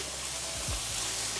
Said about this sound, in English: And we just fry this until the noodle is soft and translucent.